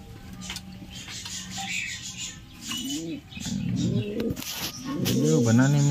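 Pigeons coo in a low, rising-and-falling pattern, the calls growing louder and closer toward the end, with faint chirps and someone talking at times over the birds.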